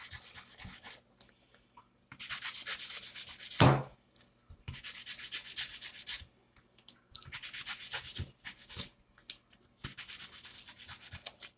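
Sandpaper of 320 grit rubs a lightsaber part in several bursts of quick, close scraping strokes separated by short pauses, with one sharp knock partway through.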